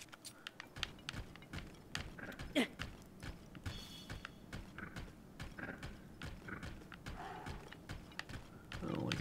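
Horse hooves clip-clop steadily while riding through Zelda: Tears of the Kingdom, a continuous rhythmic clatter of steps mixed with game music and mechanical effects, with voices talking over it.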